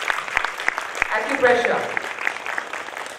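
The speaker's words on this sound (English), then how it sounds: "Can I have a round of applause for the wonderful job they are doing?" Audience applause at a forum plenary session in a hall, scattered claps of moderate loudness running under a speaking voice that comes and goes.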